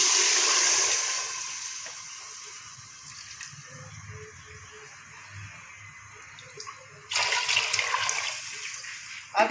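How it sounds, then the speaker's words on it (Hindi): Water pours steadily into a cooking pot while aloo pulao is being made, a loud gushing at first that eases into a quieter trickle, then surges again near the end. "अब हम इसमें पानी डालेंगे।"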